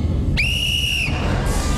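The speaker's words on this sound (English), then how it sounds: "And with that whistle" A referee's whistle blows once to start a race on a kids' sports competition show, a sharp shrill blast lasting under a second over crowd noise.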